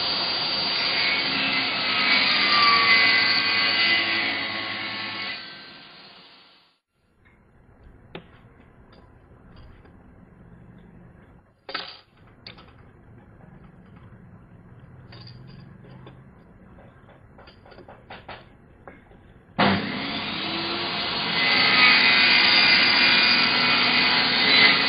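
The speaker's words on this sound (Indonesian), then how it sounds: "kita potong ke mesin" A machine cuts natural stone for a handmade flower pot, giving a harsh, steady grinding roar that runs for several seconds. Quieter workshop noise and a few faint knocks follow before the loud cutting starts again.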